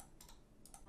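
Clicks of an XPG Primer computer mouse: two pairs of sharp, close clicks stand out over a faint steady background hiss.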